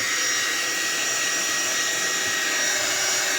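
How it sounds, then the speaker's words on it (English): Hair dryer blowing to dry wet paint on an upcycled piece, a continuous steady whine and rushing airflow, close and fairly loud, alone without talk. "is this still wet? Yes. I'm just going to dry it a little bit more."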